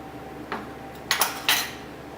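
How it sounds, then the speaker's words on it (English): Potatoes being tossed with olive oil and salt in a bowl, giving a few short clinks and scrapes, three distinct bursts spaced over a couple of seconds against a quiet kitchen background. "we're going to toss again until it's evenly covering"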